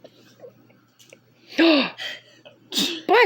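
A child sneezes a few times at close range, short sharp bursts with breathy catches between them, set against a quiet room.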